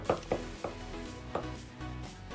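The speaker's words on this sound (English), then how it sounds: "Let's cut some thin slices." A knife slicing thin pieces of chashu pork on a cutting board, with four or five distinct close taps of the blade striking the board at an uneven pace, heard alone without talk.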